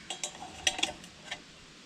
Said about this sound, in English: Let me get the pot grabber here.